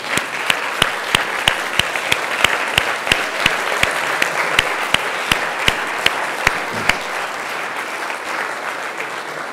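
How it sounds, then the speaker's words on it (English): Steady applause from a sizable crowd at a medical school white coat ceremony, continuous clapping with sharp individual claps standing out, loud and sustained throughout. "So I'm going to ask you to turn around and applaud and wave to your loved ones"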